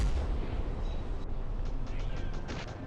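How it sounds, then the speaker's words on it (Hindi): A land mine blast in the video game Rope Hero Vice Town: a dense, continuous booming rumble with crackling bursts, loud and sustained throughout, no talk over it. "आ जाओ गाइस, लैंड माइन से ही मारेंगे इनको।"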